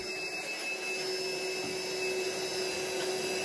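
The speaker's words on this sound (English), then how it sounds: "Vacuum out that hole as best you can." A vacuum cleaner runs steadily while clearing dust from a hole drilled with a hammer drill during a water heater upgrade, a constant droning whine held for the whole stretch with no voices.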